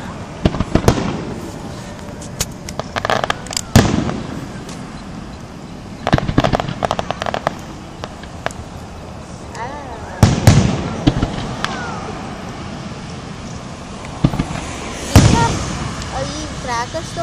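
Independence Day fireworks in Huntsville burst overhead in repeated loud booms and crackling pops at irregular intervals, with people chatting nearby between the blasts.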